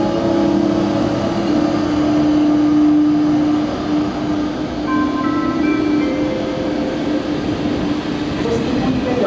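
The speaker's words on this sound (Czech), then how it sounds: "Vlak je připraven k odjezdu." Loud, steady rumble of a train with sustained tonal whine rising slightly as it pulls away from Kojetín railway station, continuous throughout.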